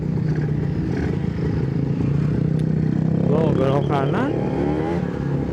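A motorcycle exhaust drones on a ride with wind and road ambience around it, and a rider briefly speaks partway through.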